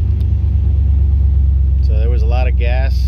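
Truck engine idling steadily after being cranked while slightly flooded, a continuous low rumble throughout with a person talking over it near the end.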